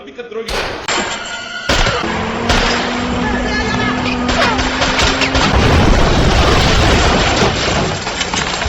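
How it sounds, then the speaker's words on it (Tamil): A gunfight from the James Bond film Quantum of Solace, with dense loud thuds, slams and gunshot-like impacts over a continuous roar of chaotic action noise, with voices mixed in. "பாண்டு கன் ஃபைட்டை ஆரம்பிச்சிடுறாரு"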